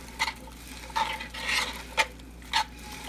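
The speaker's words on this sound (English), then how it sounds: "Give it a little bit of a stir." A spoon stirs oxtail braising liquid in a pot with a few soft scrapes and sloshes, short and quiet, up close with no talking.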